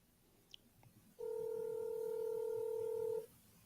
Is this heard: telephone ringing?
yes